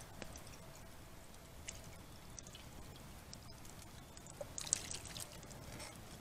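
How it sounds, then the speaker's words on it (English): Red wine and beef sauce from braised short ribs runs through cheesecloth at a campfire as a faint, steady trickle and pour, with soft drips and a slightly louder splash near the end. "We need to strain the sauce. Got some cheesecloth here."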